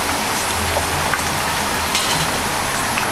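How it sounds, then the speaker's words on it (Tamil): Steady rain falls, a dense, even hiss of drops that carries on unbroken at a fairly loud level. "மழை வருது"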